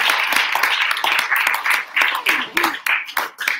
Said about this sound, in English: let's just all give him a big round of applause.